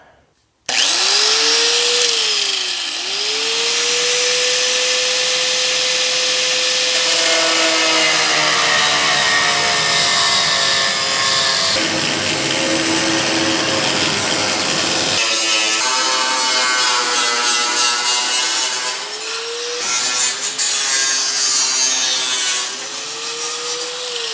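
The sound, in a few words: cutoff wheel cutting car wheel well metal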